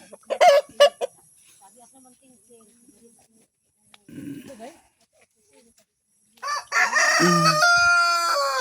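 Chickens cluck in a short burst near the start, then after a quiet stretch a rooster crows loudly and long, with other fowl calling alongside.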